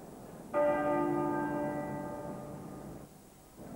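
One deep strike of the Westminster Abbey bell, tolling for a funeral, rings out clearly, its rich tone slowly fading over a few seconds against faint background ambience.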